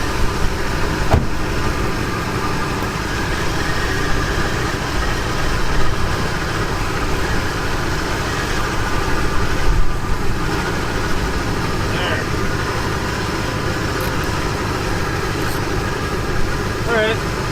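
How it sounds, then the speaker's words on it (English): An Oldsmobile 98 engine idles steadily after a timing adjustment, a loud, continuous low rumble close up, running alone without talk for the whole stretch. "I'm just gonna start it up and then just dial a little timing out at idle."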